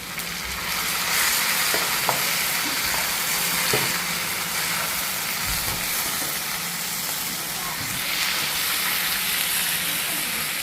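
Tomatoes and onions sautéing in a pan for Sri Lankan Tamil chicken biryani, a steady close sizzle with occasional stirring clicks throughout, with no talking.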